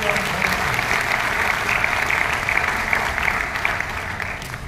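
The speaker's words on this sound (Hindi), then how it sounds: "बहुत जोरदार तालियां बजा करके" Sustained audience applause at a book launch honouring Pandit Deendayal Upadhyaya, attended by the Governor of Sikkim, a dense, steady clapping from a large crowd in a hall, continuous and fairly loud throughout without any speech.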